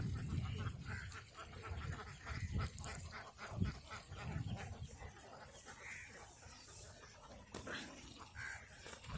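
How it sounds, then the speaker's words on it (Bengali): A large flock of farmed ducks in a wetland quacks and honks continuously at a distance, a busy overlapping chorus with outdoor background noise. "কি পরিমাণ হাঁস!"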